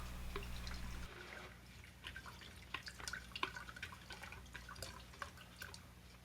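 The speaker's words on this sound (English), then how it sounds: "I'm going to drop it down into the water here, get it soaked, and then wring it out" Water drips in scattered, uneven drops as a soaked soldering-station sponge for a Weller WLC100 is wrung out. A low steady hum runs through the first second, then fades, leaving the faint, close dripping.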